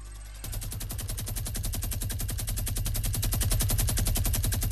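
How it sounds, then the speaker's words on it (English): Rapid automatic gunfire in Fortnite Battle Royale, a steady stream of loud, close shots at a fast even rate that continues for several seconds without pause. "I'm going to shoot there."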